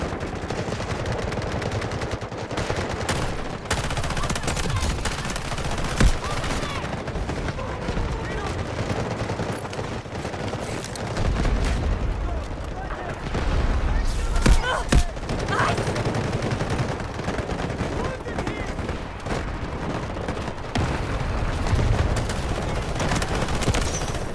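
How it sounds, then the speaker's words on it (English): Artillery barrage in the shooter game Delta Force, a sustained storm of gunfire and explosive blasts rolling on continuously, with heavier thuds around the middle, under game radio voices. "Artillery barrage incoming."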